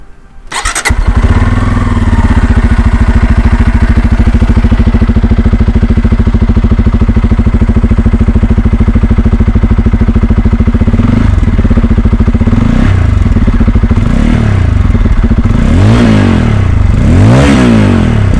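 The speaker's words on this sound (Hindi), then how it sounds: "चलिए हम क्विकली सुना भी देते हैं आपको इसका एग्जॉस्ट नोट।" A Bajaj Pulsar 250 motorcycle with a 250cc engine starts, then idles with a steady, loud exhaust note before several sharp throttle blips near the end.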